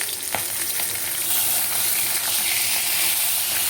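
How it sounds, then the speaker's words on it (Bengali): Fish frying in a pan in a home kitchen, a steady, close, loud sizzle and hiss that holds without a break, with no talk. "আর এই দেখো এদিকে মাছ ভাজা হচ্ছে"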